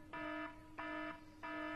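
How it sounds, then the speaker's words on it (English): A studio alarm on a live gem shopping broadcast sounds three times, each a loud, steady electronic tone lasting about a third of a second, with short gaps between them. No one speaks over it. "What's this alarm for?"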